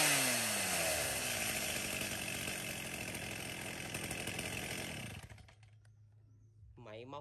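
A chainsaw engine runs loudly and steadily for about five seconds, then cuts off, leaving a low idle hum and a brief voice at the end.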